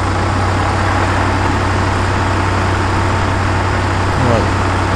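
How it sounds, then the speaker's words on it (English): Cat combine engine from a Farming Simulator 2013 mod pack runs at a steady idle, a constant low rumble and hum filling the whole stretch, with a slight swell near the end. "start the engine."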